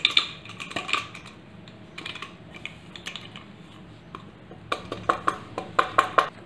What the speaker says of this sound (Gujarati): ત્રણેય મસાલાને સરસ મિક્સ કરી લેવા